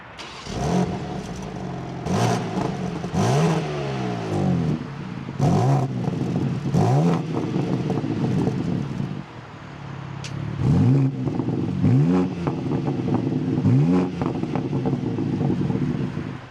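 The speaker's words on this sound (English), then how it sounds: "let's fire up the M2, take a listen to how this sounds." A 2025 BMW M2 engine starts and revs repeatedly, each blip climbing sharply and falling back, loud and close, with short idle pauses between.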